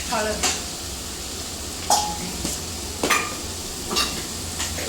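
Cumin and mustard seeds sizzle in a pan with turmeric and salt under a steady hiss while a utensil scrapes and clinks against the metal a few times, with quiet talking nearby.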